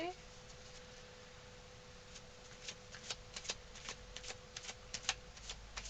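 Tarot cards are shuffled and pulled from the deck in a reading, a quiet close run of soft riffling snaps and flicks that thickens toward the end over a faint steady hum.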